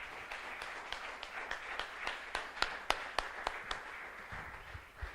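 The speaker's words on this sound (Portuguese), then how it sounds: "Aplauda o Senhor comigo mais uma vez." A church congregation claps along during a worship service, giving rhythmic hand claps that grow into scattered applause, fairly faint and a little distant, with no talking.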